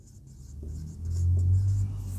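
Chalk or marker strokes scratch faintly across a board as English letters are written out, soft and close, with a low hum beneath and no talking.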